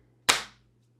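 A single sharp hand clap, close and loud, with a short decaying tail and near silence around it.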